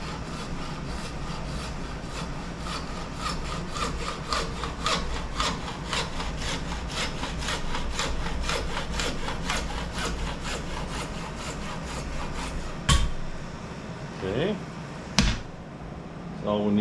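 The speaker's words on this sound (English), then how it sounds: "I'll just use a hacksaw to get it off" Hacksaw cutting a fitting clamped in a vise, steady rhythmic back-and-forth strokes close by for about twelve seconds, then a few sharp knocks and handling noises as the cutting stops.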